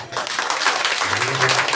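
Brief burst of congregation clapping in a church service, a dense patter of many hands mixed with a voice speaking under it, short and fairly loud.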